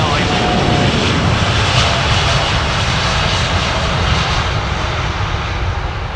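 An airliner's jet engines roar steadily and loudly at London Heathrow Airport, a dense continuous rumble that holds without break from start to finish.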